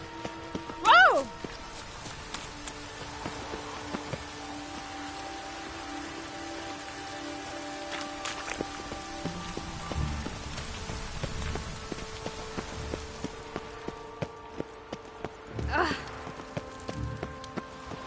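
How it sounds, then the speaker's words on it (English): Steady rain patters on a surface in The Witcher 3 video game while horse hoofbeats clop along, with a voice speaking briefly over the scene. "Rain like this would fetch a fortune."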